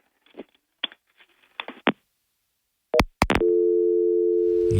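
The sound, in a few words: telephone busy signal on a faulty phone line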